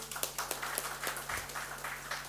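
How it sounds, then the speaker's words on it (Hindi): A small gathering at a panchayat resource centre meeting gives brief applause after a lamp-lighting, scattered claps fairly faint over a steady electrical hum. "ताली।"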